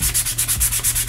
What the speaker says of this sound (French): j'ai pris du grain très léger, hein, 120 pour poncer